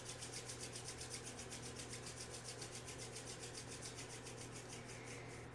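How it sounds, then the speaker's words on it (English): Palms rub briskly together during a kundalini yoga flow, a soft, quick, even run of dry swishing strokes that keeps going without pause. "we'll again rub the palms together in front of the heart"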